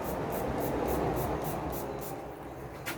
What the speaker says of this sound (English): So I'm spraying this